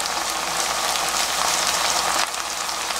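Garlic stems stir-frying in a pan with soy sauce and chili powder give a loud, continuous hiss and sizzle with fine crackling, which drops slightly near the end.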